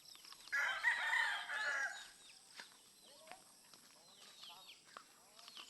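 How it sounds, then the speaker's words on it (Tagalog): On a farm, a rooster crows nearby while chickens cluck softly around it, with scattered quiet chirps in an open outdoor setting. "Nagkalat ng manok."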